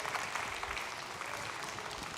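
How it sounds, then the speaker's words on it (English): Audience applause for a dog at a pirate-themed dog show, a soft, steady patter of clapping from a crowd, faint and continuous for a couple of seconds. "And give him a round of applause."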